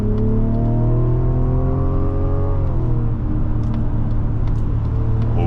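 A 2025 Mazda CX-90 accelerates to overtake. Its engine drone is loud and close, climbing steadily in pitch before dropping sharply at a quick gear change and then pulling on at a steady rumble.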